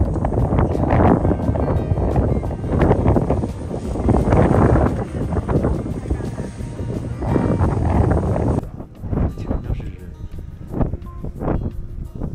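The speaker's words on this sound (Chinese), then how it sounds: "看似安静的画面，其实是狂风大作。" Strong wind at a snowy Hokkaido hot spring, with thick mist about, buffets the microphone in loud, gusty bursts of rumbling noise that surge and ease, then thin out toward the end.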